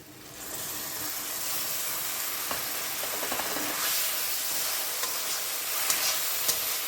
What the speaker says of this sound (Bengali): জিরে, আদা, রসুন, শুকনো লঙ্কা, গোলমরিচ বেটে রেখেছি, সেই মশলাটা আমি এখন দিয়ে দিচ্ছি